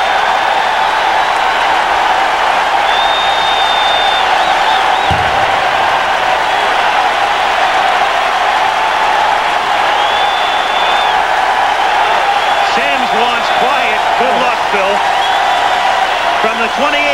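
A stadium crowd at a New York Giants football game roars steadily as fans react to the Mets winning the World Series, a loud, unbroken wash of cheering beneath an announcer's voice.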